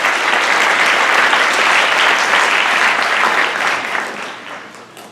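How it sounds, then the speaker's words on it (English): A lecture-hall audience at a university discussion event gives a sustained round of applause. Dense, even clapping from many hands stays loud for several seconds, then thins and fades toward the end. "A round of applause for Stephanie Gray."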